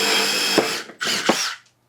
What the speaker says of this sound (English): We're going to start with a 5/32 drill bit. We'll start off easy. We'll go with wood.